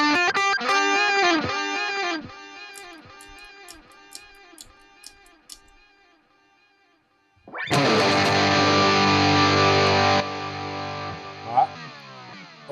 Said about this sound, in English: I can bring in some cool reverb